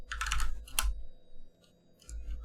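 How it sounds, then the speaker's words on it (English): Someone types on a computer keyboard while writing game mod script code, giving quick clusters of crisp key clicks close by with brief gaps between them and no voices. "Then we'll type local"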